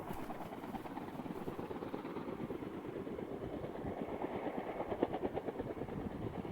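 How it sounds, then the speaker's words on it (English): A helicopter touching down, its rotor and engine a steady low throbbing drone with a faint rhythmic beat, heard at a moderate distance without voices. "He's already got chopper touching down."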